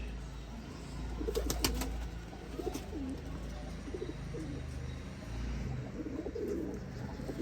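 Soft, low coos from chapray pigeons repeat in a steady murmur, with a few brief higher chirps and rustles over a constant background hum.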